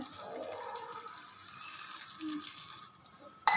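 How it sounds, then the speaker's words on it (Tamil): Water from a tap runs and splashes into a bowl of chopped raw banana in a home kitchen, a steady soft pour lasting a few seconds, then a brief clink at the end. "லைட்டாக உப்பு போட்டு ஒரு கிளாஸ் தண்ணி ஊற்றி"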